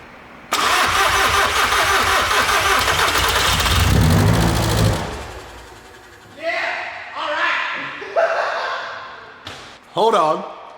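A VW MK6 GTD fitted with a 400 HP TDI diesel engine cranks loudly for several seconds, then fires and settles, followed by short revs and a voice under the running engine.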